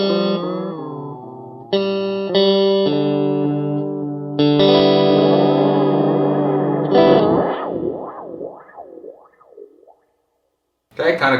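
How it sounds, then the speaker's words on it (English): Electric guitar open strings through an MXR Carbon Copy analog delay pedal, ringing chords smearing into warbling, pitch-bending repeats as the delay time is backed off, then a short silence and a final strum. "now I'm going to back the delay off while I play some open strings here"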